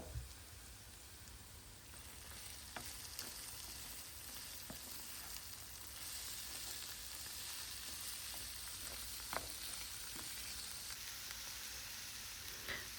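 Mushrooms fry in a pan with meat, onion, peppers, salt and pepper, giving a steady, soft hiss with scattered light clicks and spatters throughout, and no talk.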